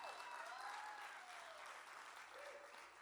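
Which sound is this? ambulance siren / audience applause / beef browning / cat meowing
audience applause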